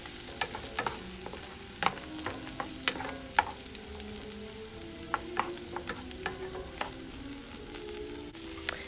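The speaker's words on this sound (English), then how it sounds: "a hot skillet with grease in it. And I just let it cook like that." Shrimp frying in a hot greased skillet, a steady crackling sizzle scattered with sharp pops and the scrape and clatter of stirring, close up with no voices.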